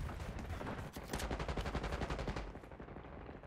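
Rapid automatic gunfire in Call of Duty: Black Ops 6, a fast rattling burst of many shots in quick succession, loud and close, fading slightly toward the end.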